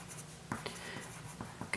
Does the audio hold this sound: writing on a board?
yes